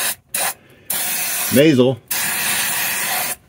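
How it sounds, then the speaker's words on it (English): Aerosol parts cleaner sprays onto the leaking transmission harness area of a T1N Sprinter van in three loud, close hissing bursts, the last two long, with a short spoken word between them. "I got some parts cleaner here."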